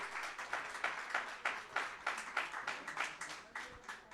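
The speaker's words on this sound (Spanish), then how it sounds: "le pido un aplauso a todos nuestros hermanos de Guatemala y de Honduras" Audience applause at a church gathering honouring Guatemala and Honduras: steady rhythmic clapping in unison, moderately distant, with bursts that pulse roughly three times a second throughout.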